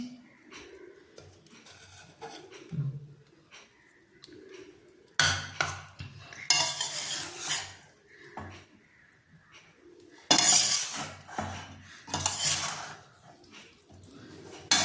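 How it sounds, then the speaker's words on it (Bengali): A spoon clanks and scrapes against a metal pot while egg prawn biryani is stirred from top to bottom, coming in loud bursts of scraping and clatter between quieter pauses. "এবার এটাকে আমি খুব ভালো করে একবার ওপর নিচে মিক্স করে দিচ্ছি।"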